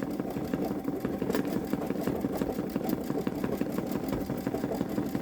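A Babylock Solaris Vision embroidery machine stitching a butterfly onto a stretchy sweater, a rapid, even mechanical chatter of the needle repeating steadily and close up throughout.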